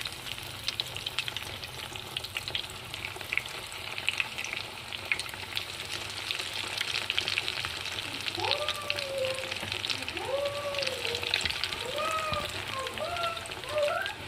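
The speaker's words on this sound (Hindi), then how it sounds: "अब हम बैंगन जो है फ्राई करेंगे।" Coated eggplant pakoras sizzle and crackle in hot oil with a steady, dense frying hiss throughout, while a voice talks faintly over the latter half.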